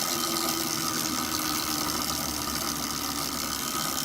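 An ultra low RPM generator engine runs at idle with a steady, loud, low mechanical thrum and a faint knocking pulse, continuing unbroken throughout.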